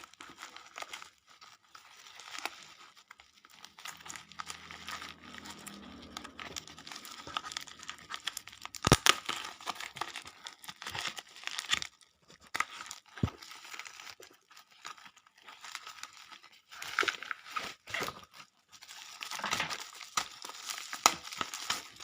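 A mailed parcel sealed with clear tape is opened by hand, with soft, close crinkling and tearing of tape and wrapping in irregular bursts, plus a few sharper crackles, quiet overall.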